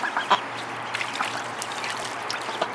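A mother duck with her ducklings on water, with a few faint quacks and peeps scattered over a steady trickling, flowing-water background, heard at a moderate distance.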